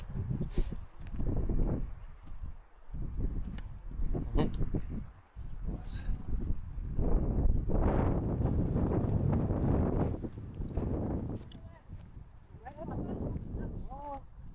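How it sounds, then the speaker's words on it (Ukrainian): Strong gusty wind buffets the microphone on a Carpathian mountain pasture, rumbling and roaring unevenly throughout while a person talks close by. "Ох, тут вітер якийсь сильний"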